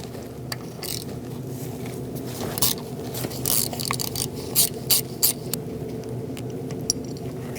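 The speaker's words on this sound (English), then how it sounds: "we're going to use a 10 millimeter socket and remove this bolt" A 10 mm socket on a ratchet works a bolt loose on a 2013-2019 Cadillac ATS 2.0L L4, a run of quick, quiet clicking bursts of ratcheting, close by and alone.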